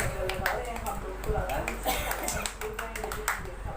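Hands clap in quick, sharp bursts while people talk over them, with a dog yelping faintly in the mix.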